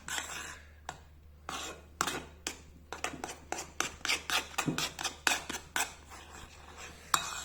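Spätzle batter is stirred in a bowl with a utensil, giving quiet, irregular scraping and clacking strokes that quicken into a faster rhythm, close and alone.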